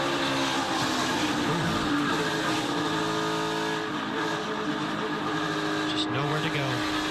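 Onboard view from a Toyota stock car racing in the Daytona 500, a loud, continuous engine roar with shifting pitch and the rush of nearby cars, while a commentator talks over it.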